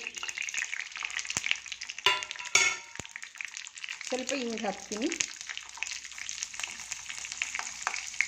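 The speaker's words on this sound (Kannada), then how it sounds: "ಇದು ಸ್ವಲ್ಪ ಚಟಪಟ ಅಂತ ಸಿಡಿಲಿ" Mustard seeds, chana dal, urad dal and cumin crackle and sputter in hot oil for a tempering, with irregular sharp pops over a sizzle and a short spoken phrase partway through.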